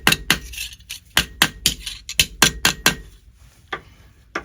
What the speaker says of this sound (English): And mallet it flat, paying attention to the smooth parts in between.